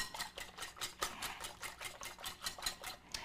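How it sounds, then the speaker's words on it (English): A whisk beats batter for blueberry French toast in a bowl, a steady, brisk rhythmic scraping and clicking repeating several times a second, close and continuous with no talk. "We're just whisking this up."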